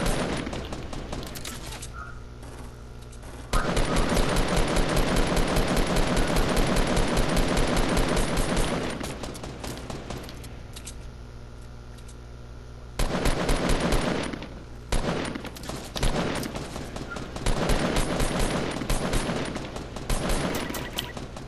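Gunfire in Fortnite, several long sustained automatic bursts separated by short quieter gaps, loud and close, with choppy shot-to-shot rhythm and a few scattered single reports near the end.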